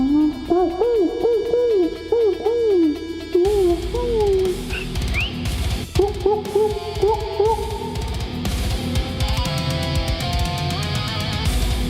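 An owl hoots in a repeated run of wavering, tonal calls, fairly loud and near, before a heavier, cluttered mix of drama-series background sound takes over.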